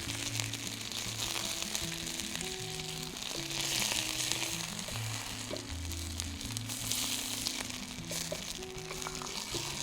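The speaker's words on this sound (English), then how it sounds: "So I just want to sear this on each side, nice and hot." Pork sears in a hot pan with a steady, close sizzle and crackle throughout. Soft background music plays underneath, and no one speaks.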